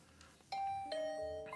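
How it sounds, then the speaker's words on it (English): A doorbell in The Hundred Line video game rings a clear two-tone ding-dong, each chime sustained and ringing out close and loud over a quiet background. "Oh, was that my doorbell?"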